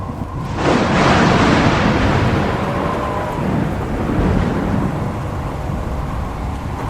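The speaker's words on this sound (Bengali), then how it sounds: "এই সময়ে চারিদিক কাঁপিয়ে এতক্ষণের অপেক্ষমান ঝড় আছড়ে পড়ল।" A storm sound effect roars in: a heavy, close thunder rumble breaks out after a brief quiet start and then rolls on as a loud, continuous wash of rain and wind without any voices.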